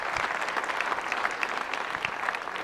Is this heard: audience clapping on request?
yes